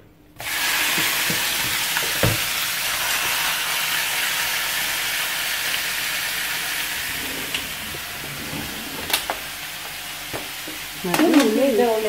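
Pork ribs and cracklings fry in a pan with a steady, close sizzle and hiss that continues throughout, broken by a few scattered pops and faint clatters.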